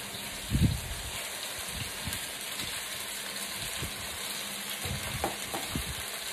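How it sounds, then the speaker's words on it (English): Kuey teow noodles frying in a pan on high heat, a constant loud sizzle with scattered scrapes and tosses from stirring throughout. "Okay, you want high heat. Put it aside. And we're going to put in our kuey teow."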